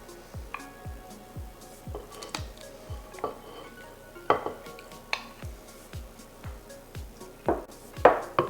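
Crushed pineapple being stirred into coconut cake batter in a bowl, with a steady series of soft, wet squishing strokes and occasional clinks of utensil against the bowl, close and fairly quiet, with no talking.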